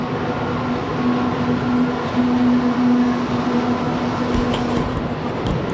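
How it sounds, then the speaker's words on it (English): A big freight train rolls past in Revelstoke, a loud, steady rumble close by with a faint sustained hum and some clatter toward the end, no talking. "And this was a big old train."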